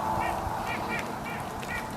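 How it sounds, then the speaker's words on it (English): Geese honk repeatedly in the distance over Minnesota woods, faint calls rising over a steady outdoor hiss and rumble. "Listen to the geese"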